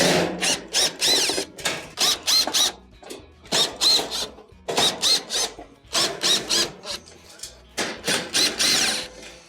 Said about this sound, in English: We'll go around the perimeter, remove all the Phillips screws that hold it on.